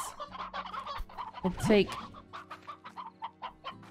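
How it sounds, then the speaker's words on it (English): Hens cluck in the Slime Rancher video game, a busy run of short, close clucks and squawks with a louder squawk midway, while a person speaks briefly. "So let's bring over some hens."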